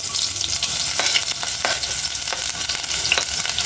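Chopped onion frying in hot cooking oil for a mussel dish, a loud continuous sizzle and crackle with occasional stirring scrapes, close up and without talk.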